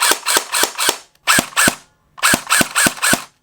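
JG MAC-10 airsoft gun fitted with a suppressor, firing loud, close, sharp shots in three bursts of four, two and four, with brief pauses between the groups.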